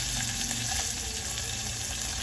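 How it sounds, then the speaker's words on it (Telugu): Cashews, onions and green chillies frying in oil with cumin for jeera rice, a steady hissing sizzle with faint stirring, close and even throughout. "ఇవన్నీ దోరగా ఫ్రై చేసుకోవాలండి"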